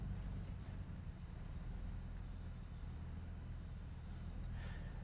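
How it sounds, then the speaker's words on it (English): A car engine idles steadily in the fishing video game Call of the Wild: The Angler, a faint, continuous low rumble with no talk over it. "I can hear that engine running"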